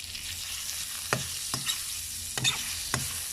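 Steady sizzling of pork belly frying in oil in a pan, broken by a few sharp scraping stirs, with no voices.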